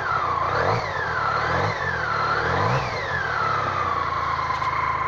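A BMW K75 motorcycle engine revving while warming up, rising and falling in several loud, close throttle blips over a steady running drone, with no talk.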